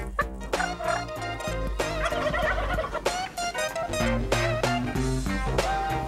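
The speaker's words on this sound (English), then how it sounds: "there's some big old birds up here." Big birds outdoors give loud, rapid gobbling calls, turkey-like, that repeat over and over at close range with no talking.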